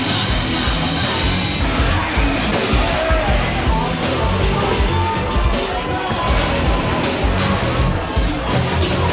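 A packed bar crowd at the Full Throttle Saloon yells, whoops and cheers nonstop at a dance, loud and close, with dense overlapping voices and hubbub throughout.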